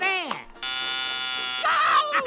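Joy buzzer from the film Who Framed Roger Rabbit, a harsh continuous electric buzz lasting about a second and then shifting, set among cartoon voice sounds and a yelp before it.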